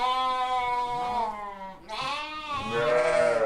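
Hissar sheep at a livestock market bleat in long, wavering, close calls, two or three overlapping cries rising and falling, loud against a faint market background.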